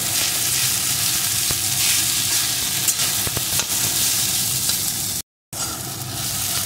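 Soaked flattened rice (chira) frying in ghee over low heat gives a steady, close sizzle that runs unbroken, with light scraping and stirring clicks scattered through it and one short silent dropout near the end.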